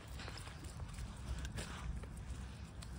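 Hooves clip-clop and shuffle nearby from ponies and donkeys behind an electric fence on a farm, steady and continuous, with faint background voices.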